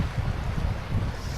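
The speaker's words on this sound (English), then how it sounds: "Such a beautiful river with an amazing sound." A river flows around rocks and debris in a steady, close rushing wash with low rumbling turbulence and no voices.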